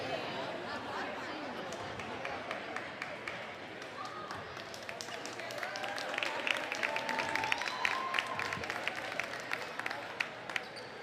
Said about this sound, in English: how about one more round of applause for our 5 maiden seniors?